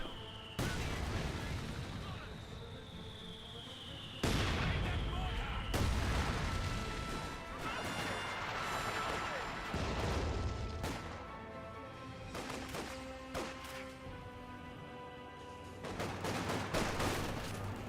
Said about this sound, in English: incendiary barrage by the mortar half track